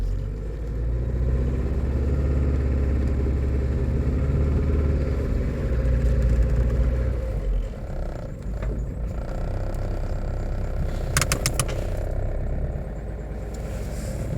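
A car creeping slowly uphill without momentum on a dirt track partly covered in ice, a steady low engine rumble with tyre and suspension creaks, heard from inside the vehicle, with a brief clatter near the end.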